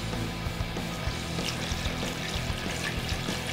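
Water pours steadily into a blender jar already holding green detox powder, protein powder and ice, a continuous close splashing gush with no talking.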